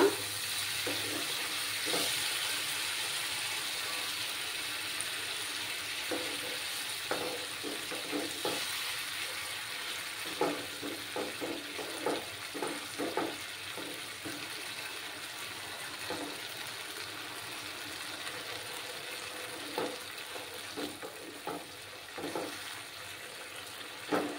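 Spices frying in oil with a little water added: a steady soft hiss and sizzle throughout, broken by scattered spatula scrapes and clicks, fairly quiet and close.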